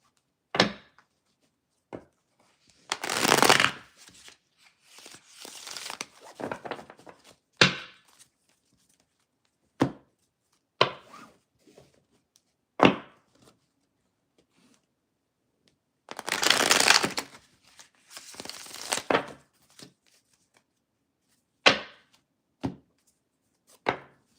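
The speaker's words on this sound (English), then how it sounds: "I'm gonna go ahead and shuffle and get some clarification." Tarot cards being shuffled in several separate bursts of riffling, with sharp taps and knocks of the deck between them, close and clear in an otherwise quiet room.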